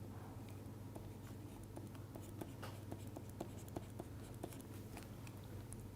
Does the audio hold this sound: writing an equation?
yes